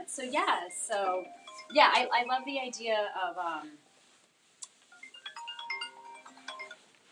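A phone ringtone goes off during a podcast conversation, a run of short electronic tones that follows a man's speech and then sounds on its own, moderately loud and close.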